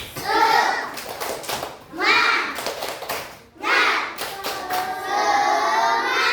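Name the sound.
children doing a spirited rhythmic clap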